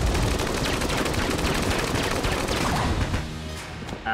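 Rapid, dense gunfire from a weapon in Enter the Gungeon, a continuous loud volley of overlapping shots that thins out near the end, with no voices.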